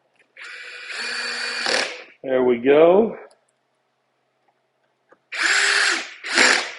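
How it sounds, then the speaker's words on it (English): A power drill whirs in two loud bursts as it drives screws into an unfinished birch Shaker wall cabinet, knocking as the screw reaches a tight fit, with a brief spoken remark in the pause between them. "As you can hear, my drill is knocking right when it gets to a tight fit"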